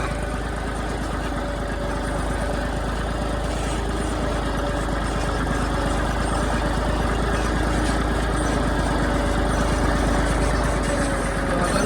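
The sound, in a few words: tractor engine running in a field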